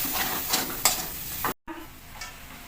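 Spice masala being stirred into meat in a pan, a steady frying sizzle broken by scraping stir strokes and a brief dropout partway through, with no talk.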